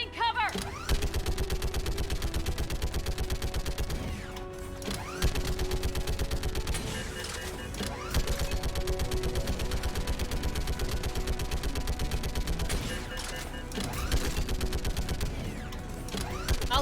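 Sustained automatic gunfire from a Mass Effect 3 firefight, dense rapid bursts filling the whole stretch with only brief lulls, loud and close, with shouted voices mixed in.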